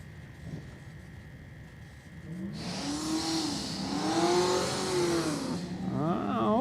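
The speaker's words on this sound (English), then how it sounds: "Brock Sutliff's machine sounding a little bit better that time in the burnout box" Brock Sutliff's drag race car revving hard in the burnout box on a cold track at a street drag event, engine wailing in repeated rising surges as it builds to a loud, sustained roar.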